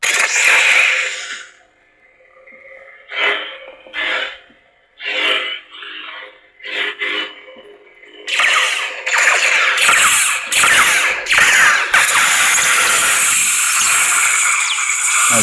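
A Proffie-board toy lightsaber cycles through sound font effects: electronic buzzing hums and swooshing bursts, short ignitions, then a sustained loud crackling drone near the end.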